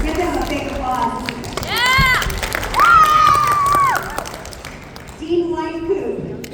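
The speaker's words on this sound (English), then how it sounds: "Give them a big applause." An audience at a school fall showcase applauds and cheers, with loud whooping shouts rising over the clapping, close and lively, and voices calling out.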